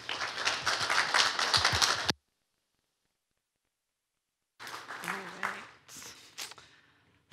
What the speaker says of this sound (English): Please give a round of applause to Kathleen Minihan.